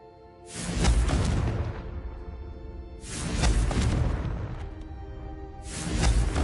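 Three deep fiery blasts from the Confringo spell in Hogwarts Legacy, each a booming whoosh that swells, lingers and fades, spaced about three seconds apart and loud and close.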